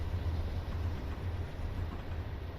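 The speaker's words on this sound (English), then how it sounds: "Notice these are 4-axle locomotives" Four-axle locomotives running on track near a Union Pacific–Southern Pacific interchange, a steady low engine rumble with continuous rolling noise, moderately loud and with no voices.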